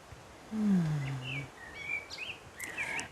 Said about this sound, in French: j'entends des oiseaux